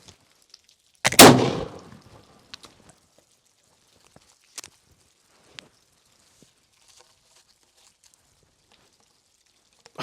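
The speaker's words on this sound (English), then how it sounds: "this is high-speed, low-drag muzzleloader shooting" An 18th-century Charleville or Brown Bess muzzleloader musket fires once with a loud, sharp boom that decays over a second in wet, rainy weather, followed by faint scattered clicks and taps in near silence.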